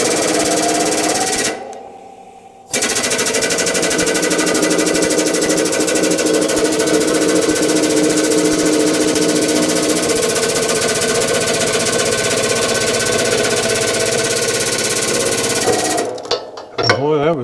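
A modified air-powered hydraulic press pump runs close by with a fast, steady mechanical chatter, briefly stopping near the start and then resuming for a long continuous stretch.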